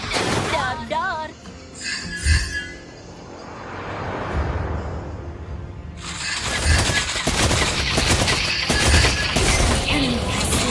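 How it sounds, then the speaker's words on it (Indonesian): Rapid bursts of gunfire ring out in the Mobile Legends video game as the hero Beatrix fires, dense crackling volleys over game effects, with brief character voice lines and voiced shooting sounds. "Siap menembak. Dor-dor."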